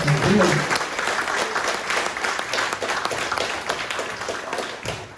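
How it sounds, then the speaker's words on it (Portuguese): An audience at a Bible seminar applauds in praise, dense clapping that starts strong and loud, then thins gradually and continues at a lower level, with a voice heard briefly at the start. "Se vocês quiserem aplaudir, glorificando ao Senhor"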